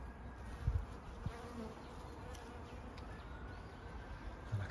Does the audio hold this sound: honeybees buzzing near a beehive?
yes